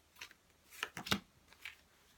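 Large Thoth tarot cards shuffled by hand in a few quick riffling bursts, close and fairly quiet, with brief papery snaps between softer rustles.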